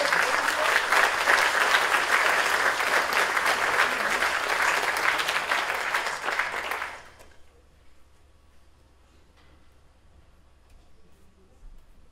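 Audience applause at a jazz concert in a wooden theatre, a dense burst of clapping that holds steady for about seven seconds, then cuts off abruptly, leaving a quiet room with faint rustling.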